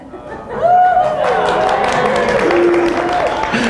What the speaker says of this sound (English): You may not want to clap quite yet.